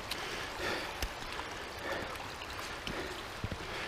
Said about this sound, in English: Melt water coming down.